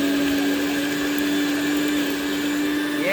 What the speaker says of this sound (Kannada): ಏನೇನು ಹಾಕಿದ್ರೆ ಮಿಕ್ಸಿಗೆ ಶುಂಠಿ ಬೆಳ್ಳುಳ್ಳಿ ಕೊತ್ತಂಬರಿ ಪುದೀನ ಹಸಿಮೆಣಸಿನಕಾಯಿ